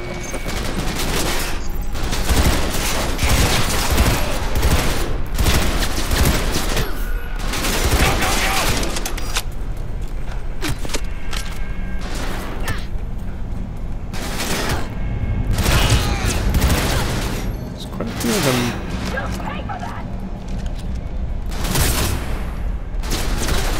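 Gunfire in the video game Cyberpunk 2077, with repeated loud bursts and mechanical clatter filling the scene from start to finish while a voice talks intermittently over the shooting.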